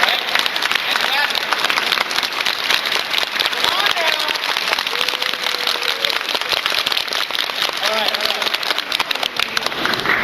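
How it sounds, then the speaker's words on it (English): An audience at a Century Council event in Washington DC claps along, producing a dense, continuous patter of many hands throughout, with a voice speaking over the clapping. "We're going to do it in a rhythm. Right? And clap."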